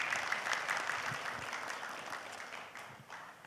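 Applause from a conference audience at a green shipping and sustainable energy event, a moderate steady patter of clapping that slowly tapers over a few seconds.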